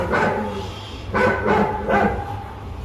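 A large dog barks three times in a steady rhythm, fairly close, over a noisy outdoor background at a wartime history museum.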